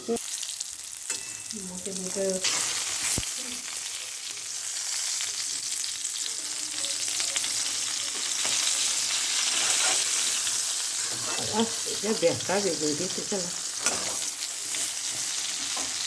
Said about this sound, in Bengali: শুকনো নেড়ে নিয়েছি আমি। এবার আমি 4-5টা কাঁচা লঙ্কা দিয়ে দিলাম।